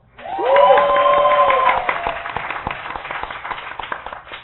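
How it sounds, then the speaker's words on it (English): A live studio crowd in New York City claps and cheers in a loud burst, whoops and shouts riding over dense applause that peaks early and then slowly tapers off, with no speech. "Now give me a round of applause."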